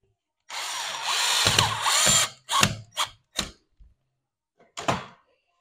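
A power drill drives self-tapping screws into a ceiling baguette for a stretch ceiling, a long loud whirring burst followed by several short bursts with pauses, close by and with no talk.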